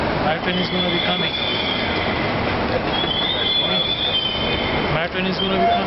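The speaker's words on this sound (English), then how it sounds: "My train is gonna be coming now." A train pulls into Canary Wharf station, wheels squealing with high metallic whines over a rumbling roll, loud and close, with people talking nearby.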